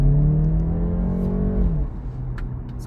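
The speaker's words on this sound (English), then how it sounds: "I'm just going to try and floor it now and experience the power properly." A 2023 BMW 330i accelerates hard at full throttle, its engine note rising steadily from inside the cabin before easing as a gear changes, loud and continuous with no talk.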